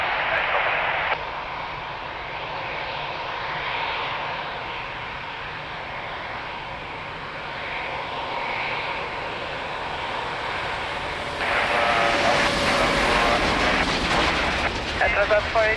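At Lisbon Airport's runway 02, a plane's engine roar rumbles steadily with muffled radio chatter beneath, then surges louder and brighter near the end as the aircraft powers closer.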